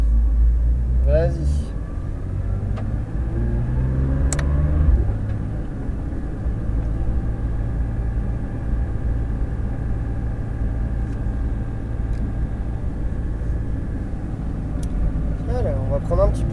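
A Porsche 992 GT3 RS on the La Ferté-Gaucher circuit gives a steady, low engine rumble with rising revs early on, heard from close by under ongoing conversation.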